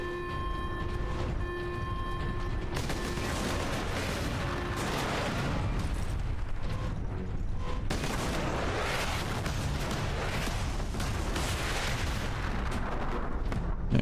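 Sustained gunfire and heavy artillery-like blasts from turret combat in Warhammer 40,000: Space Marine on PS3, dense and continuous throughout with layered booms and shots, loud and unbroken.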